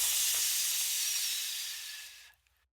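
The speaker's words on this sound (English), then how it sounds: "Hiss! A thick column of steam burst upward." Loud, steady steam hiss bursting upward as glowing green sludge meets fast river water, holding strong for about two seconds before cutting off abruptly; no voices.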